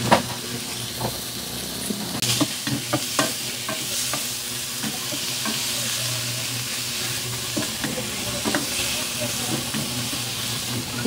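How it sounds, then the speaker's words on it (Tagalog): Pork belly for Bicol Express frying in a pan with a steady close sizzle and hiss, broken by repeated scraping stirs and occasional utensil knocks. "At ilagay natin ang ating pork belly. Pakupsan muna natin ito."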